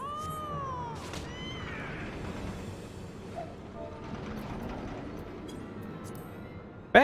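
A cat meows repeatedly with rising and falling calls in the fantasy video game Final Fantasy XIV Heavensward, over a steady background ambience, with a sharper noise burst at the end.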